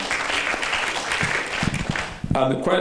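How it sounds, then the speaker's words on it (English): Listeners at a green-building keynote panel applaud in a dense, fairly loud wash that fades out near the end, when a voice begins speaking. "It's worth applauding."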